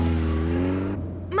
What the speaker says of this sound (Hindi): और ये गाड़ी इतने झटके क्यों ले रही है?